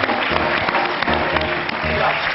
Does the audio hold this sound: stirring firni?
no